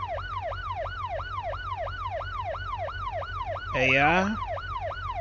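A police car's siren in the driving game BeamNG, a rapid rising-and-falling wail repeating steadily and loud throughout, briefly overlaid by a single spoken word near the end.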